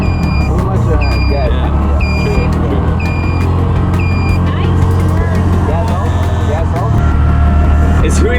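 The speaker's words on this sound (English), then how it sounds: "It's really hard to describe how it feels to drive a tuk-tuk." A tuk-tuk engine rumbles loudly while driving in Sri Lanka, with repeated electronic beeps early on and road noise throughout.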